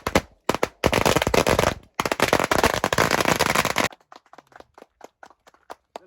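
Strings of firecrackers burst loudly at an outdoor welcome in a grape orchard, a dense crackling barrage stopping and restarting, then thinning into scattered isolated pops and bangs.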